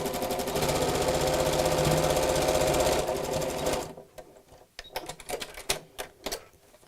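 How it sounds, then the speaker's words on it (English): A sewing machine stitches straight across the corner of a fat-quarter tote bag in a fast, even run for about four seconds, then stops, leaving a few light handling taps and clicks. "I'm going to sew straight across"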